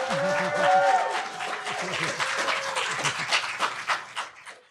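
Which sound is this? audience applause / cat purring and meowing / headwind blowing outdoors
audience applause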